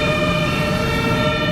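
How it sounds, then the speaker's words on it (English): A German fire truck's two-tone horn blares loud and close, a steady sustained blast with strong harmonic bands and a low engine rumble beneath, running unbroken throughout. "I was not expecting that the siren and the horn and everything was just a horn"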